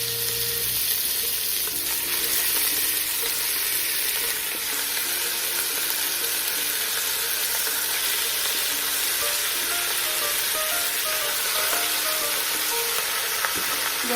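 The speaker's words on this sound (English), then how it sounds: "let's get started on browning our ground beef" Ground beef browning in a tablespoon of oil for homemade chili gives a steady, dense sizzle and crackle that runs unbroken and close, with no voices.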